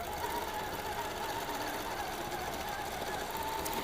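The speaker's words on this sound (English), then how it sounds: "And so now we're just stitching out the design that we developed on our quilt CAD." A computer-guided longarm quilting machine, running a QCT6 Pro system, stitches out a quilt design in a continuous, even mechanical whir and rapid needle chatter that holds steady throughout, with no speech.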